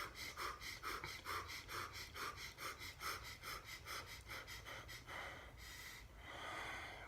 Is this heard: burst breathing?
yes